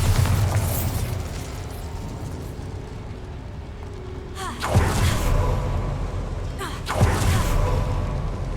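Bombarda blasting spells go off in Hogwarts Legacy: two loud booming explosions with sharp onsets, the first at mid-clip and a second shortly after, rising above a steady rumbling ambient game background.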